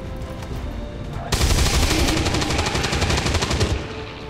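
A cannon fires in an XCOM video game like a heavy machine gun, a loud rapid burst of automatic shots that starts abruptly and rattles steadily for over two seconds before cutting off.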